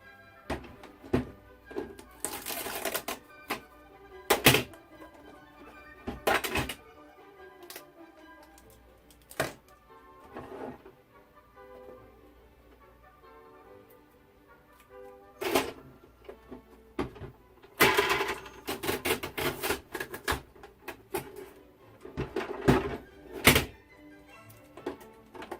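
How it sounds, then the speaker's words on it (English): Canon Pixma TS202 inkjet printer running, scattered mechanical thunks and clacks from its feed and carriage, separated by quiet pauses and a few brief whirring passes, close and alone. "Let's see what this printer can do."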